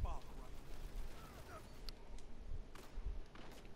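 Hand cannon fire in Destiny's Crucible multiplayer mode, Rift, a few sharp, quiet shots spaced irregularly amid faint game ambience.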